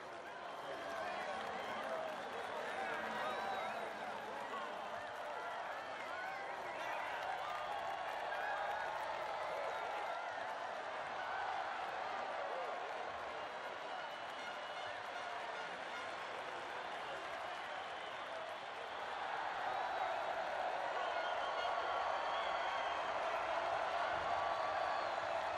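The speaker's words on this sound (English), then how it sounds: "Here are the stars of the day enjoying a round of applause from the team and fans" Team members and fans applaud MotoGP riders at the Dutch GP in Assen, a steady, dense wash of clapping and crowd noise that swells slightly louder near the end.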